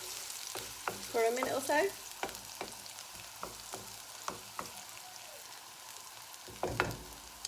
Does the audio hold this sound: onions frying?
yes